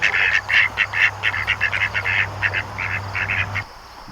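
A duck quacks in a rapid run of about fifteen nasal calls, fairly close, over a low steady hum that cuts off at the end.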